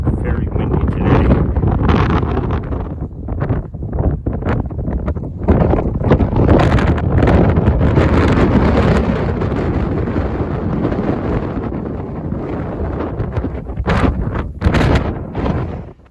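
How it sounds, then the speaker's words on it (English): Strong wind sweeps the north side of a mountain on an Appalachian Trail hike near the Lehigh River, roaring and buffeting the microphone loudly and without a break. "You can hear me with the wind. It's very windy today."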